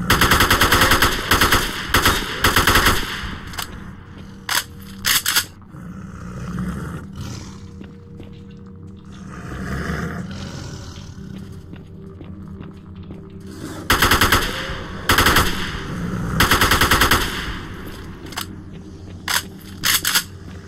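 Loud bursts of automatic gunfire from a slow-firing but hard-hitting weapon in the S.T.A.L.K.E.R. video game, several volleys broken by quieter stretches of ambient game sound, with no talking.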